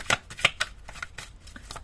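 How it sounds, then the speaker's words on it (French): Playing cards riffled and shuffled by hand before a final card is drawn, a series of soft papery bursts and flutters close up, with quiet gaps between them and no talking. "On va tirer une dernière carte."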